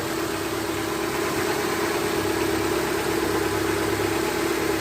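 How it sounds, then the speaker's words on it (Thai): A Honda Civic engine idles steadily after reassembly of a cleaned throttle body, a continuous mid-pitched hum with a faint vibration running evenly and close throughout, with no talk over it. "เราก็ลองมาสตาร์ทเครื่องดู"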